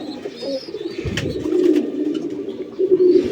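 Pigeons coo steadily and close by inside a newly built pigeon house with a cork-sheet roof, a low continuous murmur swelling in a few louder bursts, with no talk over it.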